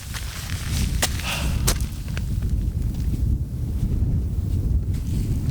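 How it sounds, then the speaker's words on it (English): Strong wind buffets the microphone on Ingleborough in Yorkshire's stormy hills. The roar is loud and continuous, low and gusty, with a few sharp knocks on top and no talking. "The wind is heading north at the moment."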